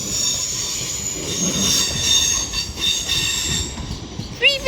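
A London Northwestern Railway train for Milton Keynes Central pulls through London Euston, its wheels squealing steadily and loudly against the rails over a low rumble, with a sharper screech rising near the end.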